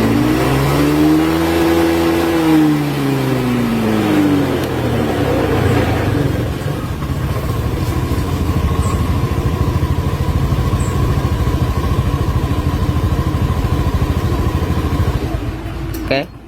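A Honda scooter engine, a Beat, Scoopy or Vario, runs near and loud, rising and falling in pitch as the throttle is blipped, then settles into a steady idle hum; talk is faint underneath.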